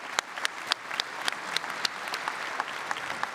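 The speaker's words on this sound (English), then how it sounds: "Round of applause for the team." Steady applause from a crowd at a university graduation ceremony, fairly close, with sharp individual claps standing out over a continuous bed of clapping.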